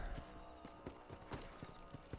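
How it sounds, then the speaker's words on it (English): Horse hooves in the Red Dead Redemption video game, a quick series of clip-clop footfalls at a steady trotting rhythm, fairly faint and close, with no talk. "Well, time to mount my horse."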